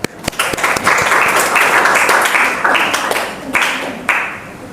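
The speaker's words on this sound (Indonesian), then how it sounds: "Tepuk tangan." Students in a vocational high school classroom break into loud, close applause, a few sharp individual claps at the start swelling into a full burst that fades toward the end.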